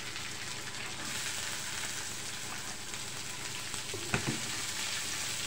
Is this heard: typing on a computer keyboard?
no